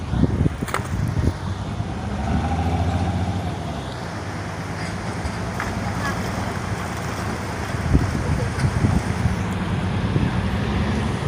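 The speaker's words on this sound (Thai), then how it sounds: "ข้อเสียก็มีลมนะทุกคนลมแห้งหน่อยนึง" Dry wind blows steadily outdoors on a hot day in a rural spot, rushing and buffeting the microphone in a continuous broadband roar with a few gusts and thumps, no speech.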